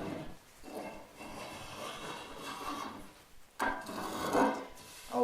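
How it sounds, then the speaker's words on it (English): A spokeshave drawn along a wooden tool handle to remove its rough, discolored surface gives repeated close rasping strokes, each a scraping rub with short pauses between passes. "we can take the Spokeshave"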